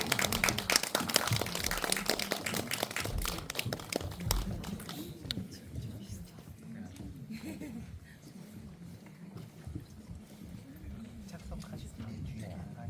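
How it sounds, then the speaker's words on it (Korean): An audience at a film screening with a guest visit claps as the actors and director come forward. Dense applause fills the first few seconds, thins out and fades beneath a voice speaking. "박수 부탁드립니다."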